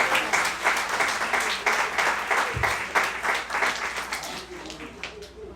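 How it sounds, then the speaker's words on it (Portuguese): Church congregation applauding during a service, a sustained burst of rhythmic clapping with cheering voices mixed in that gradually tapers off near the end. "Dê uma salva de palmas ao Senhor."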